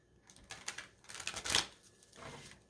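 A deck of tarot cards is riffled and shuffled, a close burst of quick papery flutters and slaps building to a louder snap before tapering off, quiet overall with no talking.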